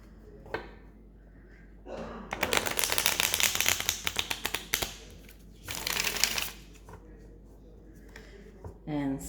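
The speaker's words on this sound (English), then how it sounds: "so let's do another shuffle" A deck of oracle cards is shuffled in rapid crisp riffling bursts, close by, with quiet pauses between the shuffles and a brief tap at the end.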